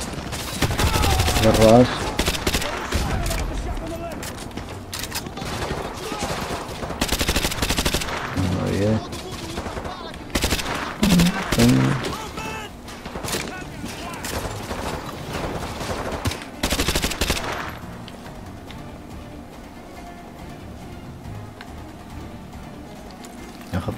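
Rapid automatic gunfire and scattered single shots rattle through a firefight in Call of Duty Modern Warfare 2 Remastered, loud bursts in clusters that stop near the end, with someone talking over them.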